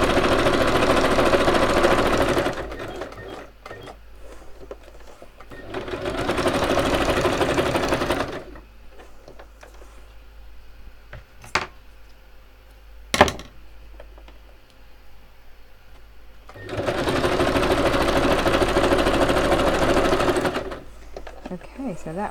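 Home sewing machine running zigzag stitches in bursts, loud whirring runs of a few seconds each separated by quieter pauses with light clicks and handling; speech is faint or absent.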